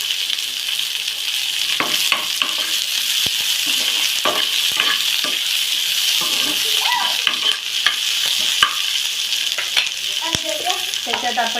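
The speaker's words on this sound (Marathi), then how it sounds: "त्याच्यात शिमला मिरची टाकूया, गॅस थोडा कमी करते।" Capsicum and onion, for paneer chilli, stir-fry in a pan over lowered heat, giving a steady close sizzle broken by frequent clacks and scrapes of a spatula turning the vegetables, with no voices.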